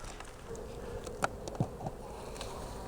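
Honey bees buzz at a honey feeder after a freeze, a faint, close, continuous hum with a few soft taps and rustles, no voices.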